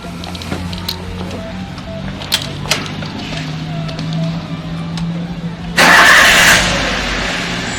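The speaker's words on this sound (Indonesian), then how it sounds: "Engine sekarang kita nyalakan." A car engine is started after a MAP sensor repair: a quiet workshop with faint clicks and a low hum gives way to a cranking catch and a loud idle that settles near the mic.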